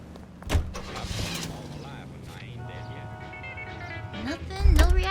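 A car engine in the L.A. Noire video game turning over and catching, a brief rising start with a low rumble near the end, heard close and fairly loud after a stretch of game ambience and music.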